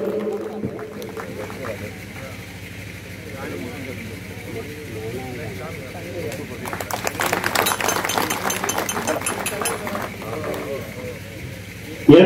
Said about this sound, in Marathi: खूप सारख्या टाळ्या, तुम्ही टाळ्यांनी यांचं कौतुक करायचं आहे.